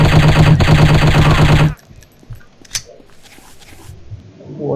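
Rapid automatic gunfire in the shooting game Striker chapter 2: a loud, dense burst of rattling shots lasting under two seconds, then a near-silent stretch with a lone sharp report and faint background noise.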